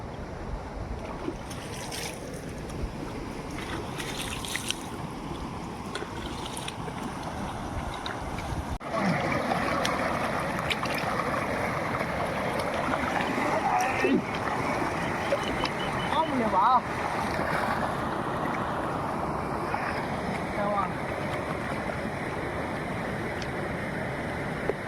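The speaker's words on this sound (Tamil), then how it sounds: "இல்லை தண்ணி நல்லா வருது." Water rushes steadily at the Mordhana sub dam near Gudiyattam as a broad continuous wash that swells after the first few seconds and carries on under people talking.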